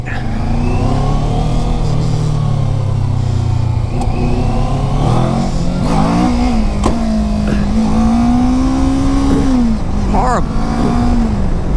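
A motorcycle revs hard and repeatedly on a cold day while its rider tries to pull wheelies, the engine note climbing and falling close by and loud throughout.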